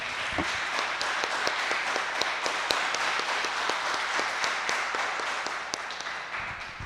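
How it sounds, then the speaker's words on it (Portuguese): A church congregation applauds during a live worship service, with sustained clapping from many people in a reverberant room, slightly distant and fading toward the end. "Vamos aplaudir Jesus, assim, com maior aplauso."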